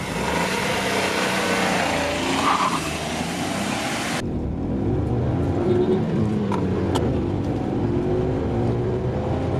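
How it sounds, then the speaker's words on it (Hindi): A Skoda Kylaq with a six-speed manual gearbox launches at full revs, its engine roaring loudly and continuously close by, with a dense, rough rush of noise throughout. "मैंने आपके लिए काइलैक को फुल रेव में लॉन्च किया था"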